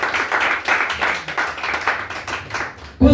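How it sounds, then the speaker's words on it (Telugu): A church congregation claps loudly during a sermon, a dense, continuous wash of hand claps that cuts off near the end as a voice briefly comes in. "గట్టిగా చప్పట్లు కొట్టి దేవుని కనపరచు."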